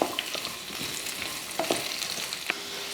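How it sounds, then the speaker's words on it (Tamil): Round slices of bitter gourd fry in oil in a pan, a close, steady sizzle with occasional spatula scrapes and clinks and no talk. "ஒரு பாவக்காய் கொஞ்சம் ரவுண்ட் ரவுண்டாக வெட்டி எடுத்திருக்கேன் அது கூட கொஞ்சம் எண்ணெய் ஊற்றி நல்லா வறுத்து எடுத்துருவோம்"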